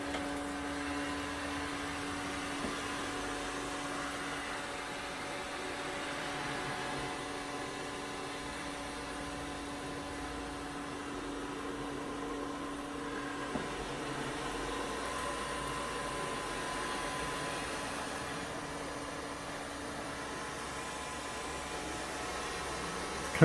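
A Samsung POWERbot robotic vacuum cleaner runs indoors with a steady, low whirring motor and brush hum, a constant tonal drone at moderate distance with no pauses or voices.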